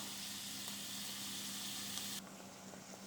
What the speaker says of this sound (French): vous allez rajouter les lardons. Allez, on va gentiment laisser cuire tout ça